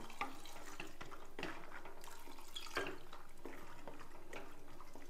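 Water runs from a tap into a pressure cooker pot of peas with salt already added, a steady close splashing and trickling stream lasting several seconds with small drips, no voices.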